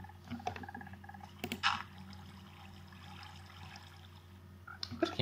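Water flowing and trickling in Minecraft, a soft continuous watery wash over a low background hum, broken by a few clicks and block sounds from the game.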